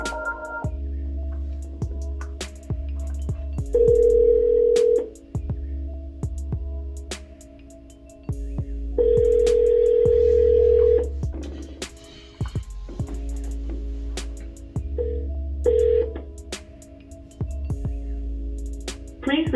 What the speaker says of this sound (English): what we want to do is we're going to load up our dial pad. And then we're going to start dialing.